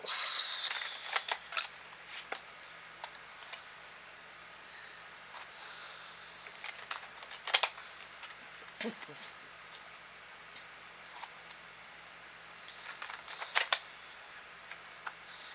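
Quiet papery flicks and soft snapping bursts as tarot cards are shuffled, in scattered clusters over a faint hiss.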